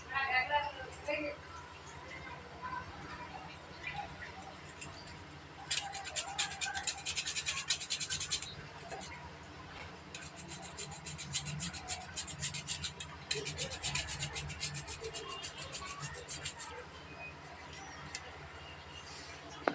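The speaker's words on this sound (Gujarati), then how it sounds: "હવે આપણે સ્વાદ આવે એ પ્રમાણે આપણે જાયફળ નાખીશું." Nutmeg grated for kheer, heard as bursts of rapid close rasping and scraping strokes, with someone talking at times and kitchen clatter between bursts.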